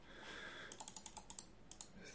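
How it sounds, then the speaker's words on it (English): Calculator keys are pressed in a quick, uneven series of about a dozen soft clicks, faint and close, with no voice over them. "we're going to go to our calculator now and type all this in"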